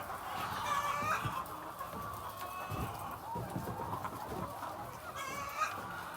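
Lohmann and Dekalb White laying hens on a farm, many birds clucking and murmuring together as a continuous moderate chorus, with a few louder calls standing out and no talk.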